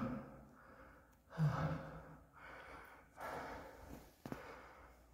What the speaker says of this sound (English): A little out breath. Take a minute to catch up here